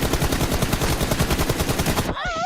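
Rapid automatic gunfire in BGMI, a Battlegrounds Mobile India team deathmatch, rattling in a dense continuous burst for about two seconds before it cuts off into quieter game sounds.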